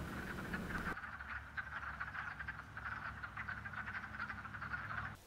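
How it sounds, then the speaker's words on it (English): Wood frogs calling in a dense chorus at a vernal pool in March breeding season, a steady clucking, ducklike croaking mass of many overlapping voices, fairly loud and continuous, with no talk. "wood frogs migrate from their forest homes to the Vernal Pools to breed"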